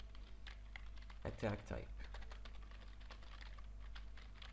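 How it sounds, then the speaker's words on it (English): Clattering keystrokes on a computer keyboard during a game-programming tutorial, rapid irregular taps with a brief louder burst of keys, someone speaking over them. "I can't type with this keyboard."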